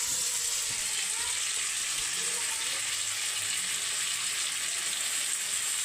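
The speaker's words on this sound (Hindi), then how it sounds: "ये देखिए हमने प्याज का तड़का दे दिया, प्याज, हरी मिर्च और सूखा मिर्च इसमें डाला है।" Steady hiss and crackle of onion, green chilies and dried chilies frying in hot oil, continuous and fairly close, with faint sounds in the background.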